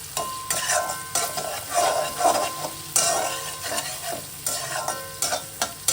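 Spices for a spinach curry stirred and fried in a pan, a steady sizzle broken by repeated scraping strokes of a spoon, close and continuous with no talk.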